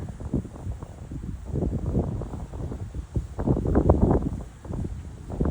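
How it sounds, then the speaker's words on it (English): Gusty wind blowing outdoors during a toy drone flight, rumbling steadily against the microphone with louder surges, no speech over it. "you can hear that wind behind us"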